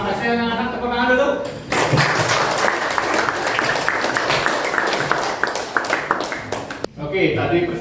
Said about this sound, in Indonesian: Oke, terima kasih anak-anak. Tepuk tangan dulu.